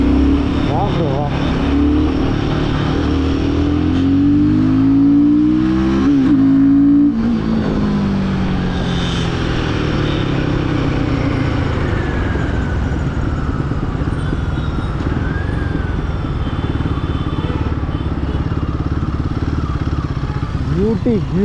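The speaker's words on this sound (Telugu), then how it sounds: "సెకండ్ గేర్లో ఎట్లా గుంజుతుంది చూసారా" A Royal Enfield 450 motorcycle pulls hard in second gear, its engine rising loud and close in pitch as it accelerates, then holding a steady roar while a rider talks excitedly over it.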